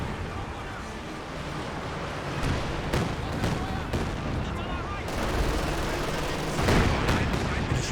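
Soviet artillery barrage in a Company of Heroes 2 match: repeated shell impacts and gunfire crack over a rushing, rumbling battle bed, with occasional sharper blasts and a commentator talking throughout.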